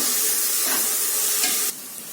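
Chicken biryani masala sautés in a pan, a dense, loud hissing sizzle with a few stirring scrapes, close up, dropping slightly in intensity near the end.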